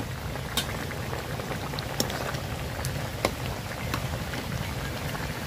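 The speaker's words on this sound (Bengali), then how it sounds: "বৃষ্টি নেমে গেছে এজন্য।" Rain falls steadily outdoors near a pond-side kitchen, a dense even patter with occasional louder drops striking a surface close by.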